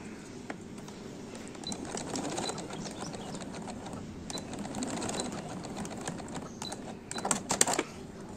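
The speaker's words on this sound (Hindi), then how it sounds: "यहाँ पे सिलाई लगा देंगे खूब सिलाई मशीन को आगे पीछे करके आपने अच्छी तरह से इसको सिलाई लगानी है" A sewing machine stitches a newborn baby's shirt, its needle clattering in a quick, steady mechanical patter that keeps going for the whole stretch, with a brief burst of faster stitching near the end.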